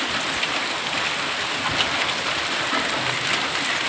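Steady, heavy rain pouring down in a continuous hiss, with no voices.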